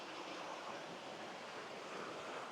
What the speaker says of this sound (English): This is a cool little stream.